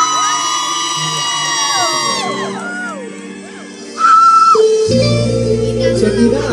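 A concert audience in an auditorium screams and cheers loudly with high shrill whoops, swelling into a sudden louder roar of shrieking near the end.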